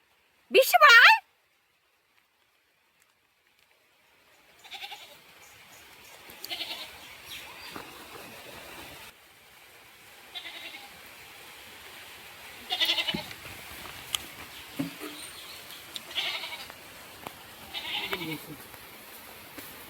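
Goats bleat intermittently on a rural farm, with several moderate calls spread across the clip amid a person calling out and talking; a short loud burst opens it before a quiet gap.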